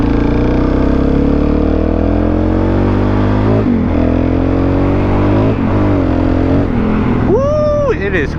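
A supermoto motorcycle rides in cold weather with a loud, close engine drone that rises and falls through gear changes, swelling into a sharp rev near the end, under wind rush.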